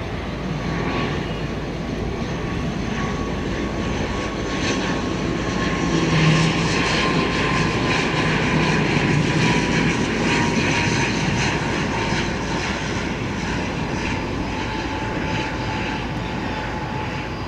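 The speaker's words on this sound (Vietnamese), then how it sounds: "chiếc máy bay đang bước vào hạ cánh ở đường băng 25 phải" An Air Cambodia ATR-72-500 turboprop lands on runway 25R, its propeller engines giving a steady, loud drone with a whining tone that swells slightly midway and holds throughout.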